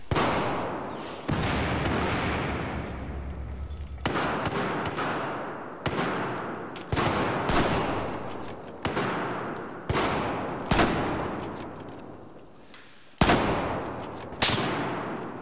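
Repeated loud gunshots ring out in Battlefield 4, sharp cracks arriving every second or so, each followed by a decaying echo, over a steady game background.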